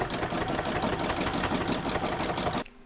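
A sewing machine stitches through batting for a crazy-patch Christmas bauble, a steady, fast, continuous mechanical whir that runs loud and even before stopping abruptly near the end.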